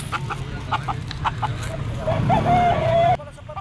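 A sweater gamefowl rooster at a Pasig pet market gives a loud, close squawking crow lasting about a second near the end, preceded by scattered clucks and bird calls over busy market background noise.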